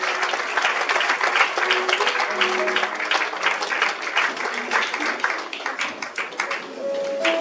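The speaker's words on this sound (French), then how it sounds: "nous applaudir au Saint-Esprit de Dieu" Applause from a congregation during a French-language church service: dense, sustained clapping that holds at a steady level throughout, with no pause.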